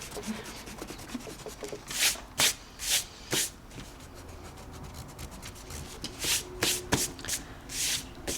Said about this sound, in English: we can go back and erase that first rough sketch and all of our guidelines